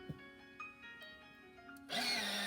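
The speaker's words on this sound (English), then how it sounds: "And let me sharpen my pencil." A pencil sharpener grinds a colored pencil blender, a sudden loud, steady buzzing whir that starts near the end and runs on close up after a few light taps and clicks.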